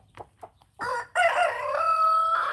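A farm rooster gives one long, close crow with a rough, gurgling, gargled quality, after a few faint soft clucks in a quiet setting.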